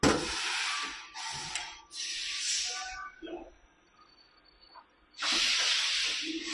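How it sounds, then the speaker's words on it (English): Vacuum pump on an OPP labeling machine running in bursts, a loud airy hiss that stops and restarts several times, with a quieter stretch of mechanical noise between the blasts. "So this is the vacuum pump of the machine."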